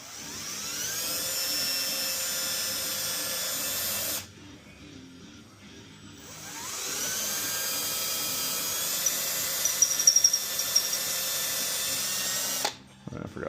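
A power drill bores out a part during a Nissan 350Z rear differential swap into an R33 Skyline, whining loud and steady in two long bursts with a brief pause and spindown between them.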